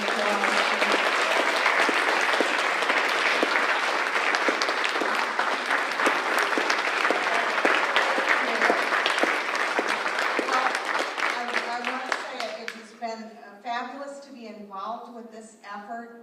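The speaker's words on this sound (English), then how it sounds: "So everybody give Nancy a round of applause." Audience applause at a community aging network annual meeting, dense sustained clapping for about twelve seconds, then thinning out as individual claps and a voice begin to emerge near the end.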